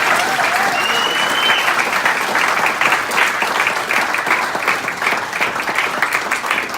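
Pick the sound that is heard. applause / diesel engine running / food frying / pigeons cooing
applause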